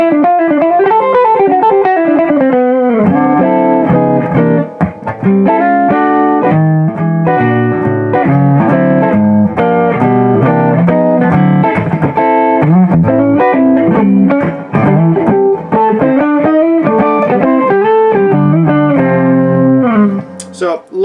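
A 2018 Gibson Les Paul Faded electric guitar played through its neck pickup with a clean tone, a steady run of close, loud plucked chords and single notes lasting about twenty seconds with no talk.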